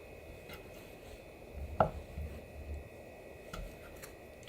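A knife cuts imitation crab sticks in half on a board in a quiet kitchen. One crisp, distinct chop stands out midway, with a few fainter taps around it and no talking.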